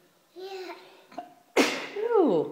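A young child sneezes once, close and sharp, between short bits of talk before and after in a home setting.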